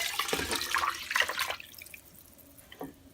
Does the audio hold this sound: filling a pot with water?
yes